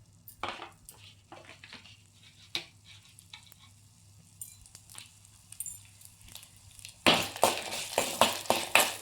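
Coriander seeds, chana dal, urad dal and three dried red chillies dry-roasting in a pan, with faint rattling and scraping stirs that turn into louder, rhythmic spoon scrapes near the end.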